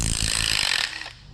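An impact wrench rattles hard for about a second, pulling a stud from a Porsche 911 930 engine during a valve adjustment, a loud, close, rapid hammering burst that then fades away.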